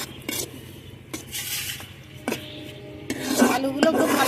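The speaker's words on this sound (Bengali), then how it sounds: "এখন আলুগুলো কষিয়ে নেব।" Potatoes stirred and sautéed in spices in a pan for taki fish curry, several distinct scraping strokes of a spatula over a soft sizzle, close, with the frying growing louder toward the end.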